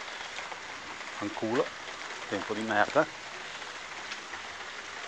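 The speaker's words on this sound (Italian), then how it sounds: "Solo che sta piovendo." Steady rain patters outdoors around a garden with banana and apple trees, a constant hiss of drops under a man's muttered speech.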